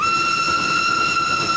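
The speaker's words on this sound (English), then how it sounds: "Oh, here's the train." A cartoon steam train's whistle sounds as it arrives, one steady, loud, shrill tone held throughout.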